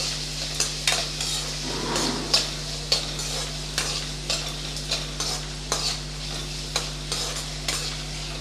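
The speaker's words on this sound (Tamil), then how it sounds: "எல்லாத்தையும் சேர்த்து நல்லா வதக்கி விட்டுறலாம்." Garlic and ginger sautéing in a pan for a brinjal side dish, a soft steady sizzle under regular spatula scrapes and clacks against the pan, about one per second, close by over a low constant hum.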